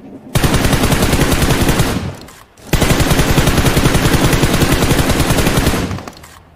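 Automatic gunfire in a video game sounds out in two long, loud sustained bursts of rapid shots separated by a short pause, close and dense with no speech over it.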